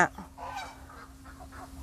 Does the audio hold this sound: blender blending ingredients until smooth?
no